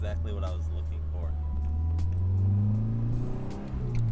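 A Nissan 240SX fitted with a catback exhaust gives a deep, droning engine note that climbs in pitch as it revs up, loud and close, with a voice heard briefly over it.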